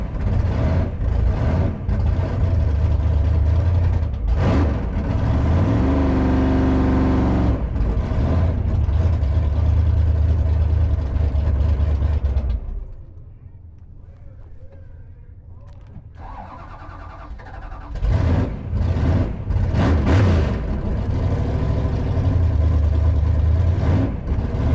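The Blasphemi drag car revs with loud, roaring engine bursts and pulsing throttle blips close by, drops away to a quiet lull, then roars again with repeated aggressive revving.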